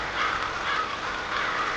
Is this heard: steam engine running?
no